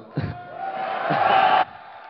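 A crowd at a StarCraft II esports match erupts in loud cheering and whooping, rising into a sustained roar for over a second before cutting off.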